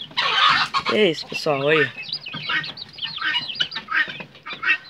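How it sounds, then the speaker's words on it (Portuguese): Chickens and guinea fowl cluck and call in a backyard, with several bird calls close by and overlapping, while a person talks over them. "A galinha da Angola ali, ó."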